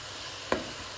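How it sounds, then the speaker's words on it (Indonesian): Coarsely ground chili paste cooks in a pan with a steady low sizzle, and a spoon scrapes the pan in one or two brief, close strokes while it is stirred. "Ini kita masak dulu sambil sedikit diaduk-aduk supaya tidak gosong ya."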